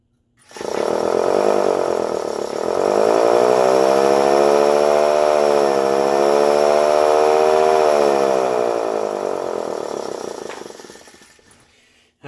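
A Canadian Model 2-3Z siren starts up, climbs to a loud sustained wail, holds it for several seconds, and then winds down at close range with nothing else heard.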